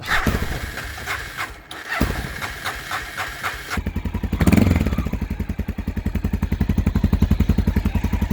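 A 2004 Honda XR650L motorcycle engine with the fuel off, cranking and sputtering in uneven bursts before catching and settling into a steady, rhythmic thumping idle, close and loud.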